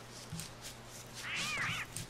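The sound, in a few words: cats fighting in Don't Starve video game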